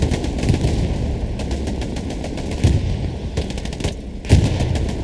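Sustained gunfire and heavy thuds in the WWII shooter Hell Let Loose as an anti-tank rocket strikes a Panzer IV tank, with rapid machine-gun bursts and low booms under a steady battle din.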